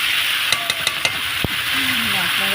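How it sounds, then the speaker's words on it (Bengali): Mutton browning in hot oil for biryani, a loud steady sizzle with a few sharp spoon or pot knocks as it is stirred, and brief speech in the background. "এই জন্য মাংসটা দিয়ে অনেক সময় ধরে আমি 10 মিনিট ধরে কষাবো। কষে নেব।"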